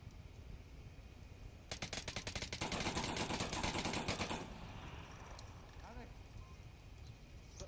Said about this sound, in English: buddy Cryocell able to return a favor with a little suppression from his LMG also.